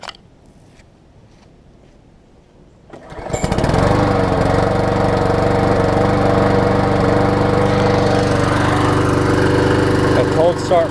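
A Troy-Bilt self-propelled lawn mower with fresh oil, a new air filter and a sharpened blade starts cold on the first pull. Near-silence gives way to the engine catching around three seconds in, then a loud, steady, close running roar.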